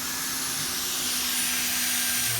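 A drill bores a rivet hole in a 2007 Mustang hood with a steady, loud whine and a sustained tonal hum throughout, alone and close.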